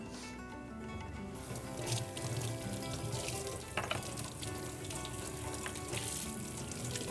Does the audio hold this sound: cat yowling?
no